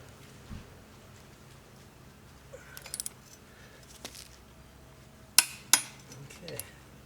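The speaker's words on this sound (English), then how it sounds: "you can hear that one click. That's about 150 foot-pounds of torque right there" Torque wrench on an MGA/MGB three-synchro gearbox assembly, set to 150 foot-pounds, giving a couple of sharp metallic clicks near the end amid faint workshop clatter and light handling noises.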